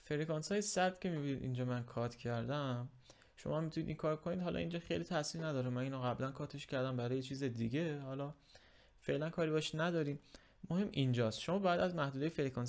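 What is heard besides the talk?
None of the usual background noises is heard.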